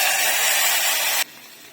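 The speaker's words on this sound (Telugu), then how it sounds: "ఉడికిన పప్పుని తాలింపు వేసుకుందాం." Hot tempering is poured into cooked lentils for Malabar spinach dal and gives a loud, close sizzling hiss that lasts about a second before it cuts off abruptly into quiet.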